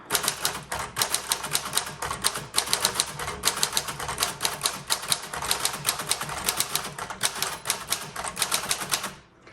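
Rapid, steady clacking of a 1941 Corona Standard manual typewriter, close and crisp, with keystrokes in quick bursts and brief pauses, ending abruptly.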